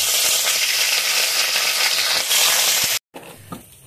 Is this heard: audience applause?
no